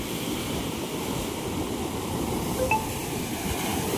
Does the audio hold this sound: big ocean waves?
yes